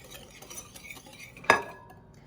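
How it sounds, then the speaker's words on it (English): Dry ingredients for Liberian rice bread, including salt and nutmeg, are mixed in a bowl with soft scraping and stirring, ending in one sharp utensil knock on the bowl, close and quiet, without speech. "You're going to mix everything together."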